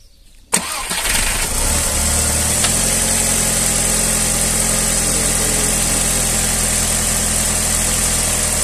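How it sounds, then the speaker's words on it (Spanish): A VW Golf 4 engine cranks and catches with a sharp burst, then settles into a steady, even idle that hums on close by for several seconds with no talk. "y voy a arrancar coche."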